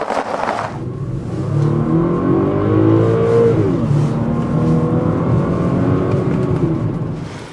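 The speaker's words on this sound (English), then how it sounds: "Just listen to this engine note when I step on the gas." A 2010 Audi Q5's engine revs up loud and close under acceleration, a steady rising drone with a pitch sweep midway, alone without talk.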